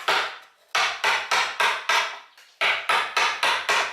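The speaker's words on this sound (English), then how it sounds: "I'm using a number 2 chisel" A mallet strikes a number 2 gouge chisel while roughing out a carved wooden scallop shell, a series of sharp, evenly spaced knocks in two bursts, close and loud with short pauses.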